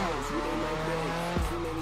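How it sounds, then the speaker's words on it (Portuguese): Chevette drifting in Assetto Corsa with tires squealing steadily over a continuous engine drone, a sharp engine rev or shift near the end, close and moderately loud. "Entrar no drift."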